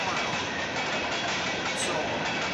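A train rolls past on railroad tracks, a steady loud broadband rumble and roar that fills the whole stretch without a break.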